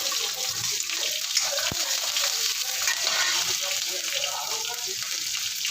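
Green chili and curry leaves fry in hot oil in a home kitchen, giving a close, steady sizzle and crackle with one brief click partway through.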